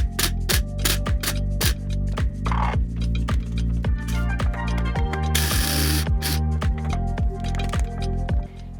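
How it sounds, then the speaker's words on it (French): A coffee grinder crushes seeds coarsely while baking cottage cheese sandwich bread, giving a loud, close mechanical whir with rhythmic clicking pulses and a brief hiss partway through, and no voices. "Mais je vais les moudre un peu dans mon moulin à café."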